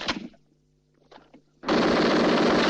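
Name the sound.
gunfire in front of stragglers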